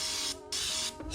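Brake cleaner sprays into a KTM 500 EXC-F oil filter screen in two short close hissing bursts separated by a brief pause, with the start of a third at the end.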